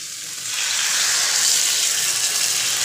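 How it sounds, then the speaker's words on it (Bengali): Water poured into dough while making sattu kachori, a close, steady hissing gush that starts after half a second and continues for over two seconds, with no speech. "এবার আমি জলটা দিয়ে দেবো।"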